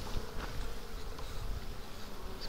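Honeybees bringing pollen back to a Dadant hive in the sun, a dense, steady buzzing hum from many insects close by, with brief louder passes as single bees fly near, and no voices.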